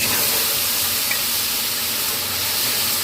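Spice paste of chillies, coriander, cumin and Kashmiri chilli powder mixed with yogurt hits a hot pan, bursting into a loud, dense, continuous sizzling hiss up close.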